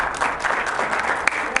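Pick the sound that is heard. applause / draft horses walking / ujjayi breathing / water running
applause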